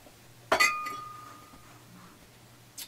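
A beer glass clinks as it is handled, one bright ringing knock that decays over about a second, then quiet room tone and a faint touch at the end.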